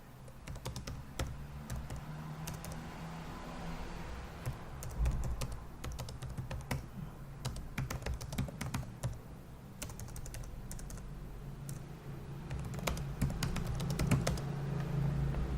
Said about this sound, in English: I don't know what's going on with my keyboard.